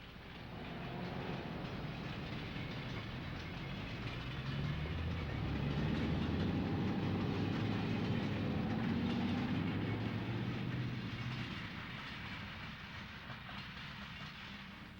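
An interurban electric train heads east behind a shopping area along Mountain Boulevard in Montclair, rumbling steadily as it passes, the low rolling noise growing louder midway and then easing off, with no voices.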